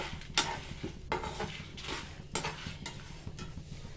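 Coriander seeds frying in a pan with dried red chillies, giving a soft continuous sizzle broken by a few sharp spoon scrapes and clinks against the metal as they are stirred.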